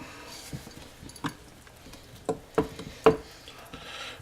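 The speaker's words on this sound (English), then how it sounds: "we're just going to use the wooden spoon and stir that up" A wooden spoon stirs bread dough in a bowl, giving a few soft, irregular scrapes and knocks that grow louder toward the end, with near silence between them.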